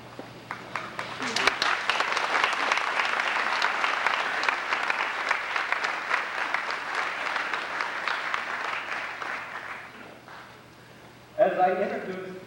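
Audience at a high school graduation ceremony breaks into sustained applause, a dense wash of clapping that builds quickly and holds for about nine seconds before fading, followed by a voice speaking over the hall.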